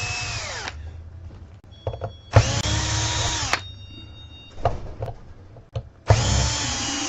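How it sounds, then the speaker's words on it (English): Power drill backing screws out of a Dean five-string bass guitar: three bursts of whirring motor that wind down, separated by small clicks and handling noises, close and loud, with no talk. "So we'll go ahead and pull the screws out of here."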